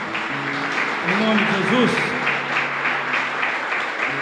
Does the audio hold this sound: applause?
yes